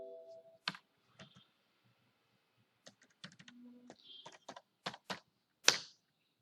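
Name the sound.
typing data on a computer keyboard in Excel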